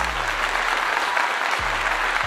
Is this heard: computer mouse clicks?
no